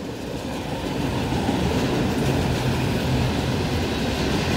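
A BNSF freight train with autorack cars rolls past, a steady, loud rumble of wheels and rail clatter that holds throughout with no voices.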